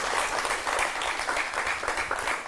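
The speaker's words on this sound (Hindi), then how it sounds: "जोरदार तालियों के साथ उनका स्वागत करें" Audience at a news event clapping loudly to welcome a guest, a member of parliament, with dense, sustained applause throughout and no voices over it.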